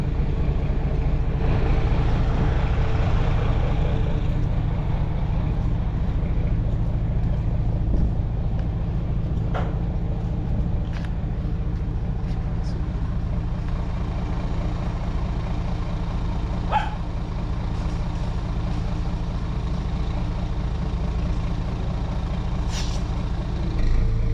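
A truck rumbles along in the desert with a loud, steady low engine roar, and brief hissing bursts from its air brakes cut in now and then. No one speaks.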